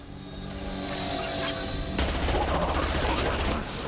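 Dense, sustained gunfire and crashing combat noise in the Mass Effect 2 Collector Base final battle, loud and continuous throughout without clear pauses.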